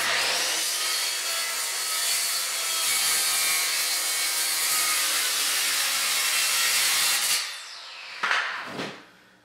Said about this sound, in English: Alright, I'm going to saw this.